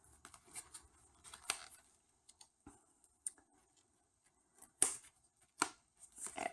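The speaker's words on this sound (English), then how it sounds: "Let me grab my scissors." Scissors snip through paper in a quiet room, a scattered series of short sharp cuts and clicks with pauses between them.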